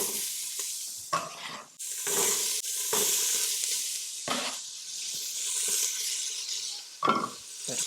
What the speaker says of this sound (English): now we're gonna throw all this into our hot pot